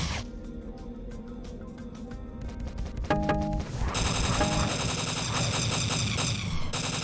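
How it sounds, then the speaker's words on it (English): Rapid gunfire rattles in dense bursts in the shooter game Marathon, followed by a louder, sustained stretch of firing with ringing electronic tones, fairly close, with no talk. "I'm following the shooting and explosion,"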